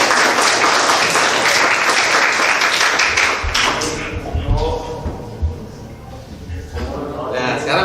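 Applause from a group of students in a scouting class, loud clapping at first that tapers off, with a few thumps and voices talking as it fades.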